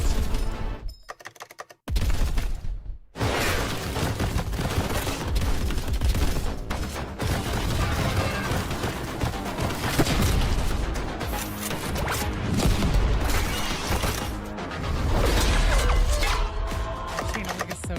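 A bolt gun fires in the Warhammer 40,000: Darktide trailer, heavy booming shots and crashes layered over a dense, loud battle soundtrack, with the blasts running almost continuously after a short silent break near the start.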